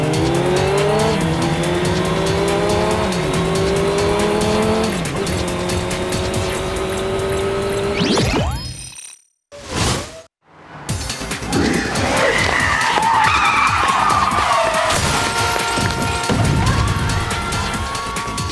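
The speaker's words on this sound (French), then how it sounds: "Les motos du Whoop viennent à votre rencontre." Cartoon racing motorcycles roar and whine loudly past, with squealing tires and skids, then cut briefly to near silence before another burst of engine noise and skidding resumes.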